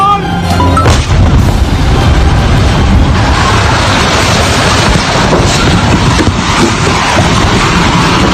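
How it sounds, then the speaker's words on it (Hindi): Loud, continuous booming roar of explosions during an attack from the Lebanon side on Israel, dense and distorted throughout, with a sharp blast near the start and possible shouting mixed in. "अब धमाके की गूंज सुनिए।"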